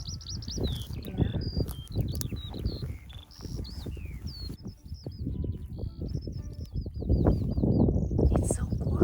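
Birds chirp and whistle in short repeated phrases outdoors, fairly clear above a steady background of low rumbling noise and movement.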